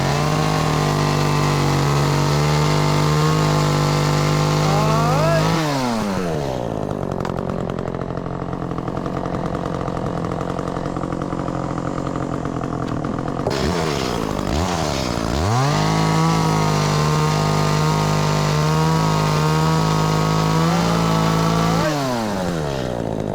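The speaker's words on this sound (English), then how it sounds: "That damn chainsaw, boy." Mid-size chainsaw running while a dock is being removed, revving to a loud high whine, dropping to a rough idle, then revving hard again, with no talking.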